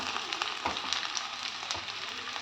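Two medium onions frying in a pan with a green chili and cashews, a steady close sizzle with light crackles and occasional stirring scrapes, no talking.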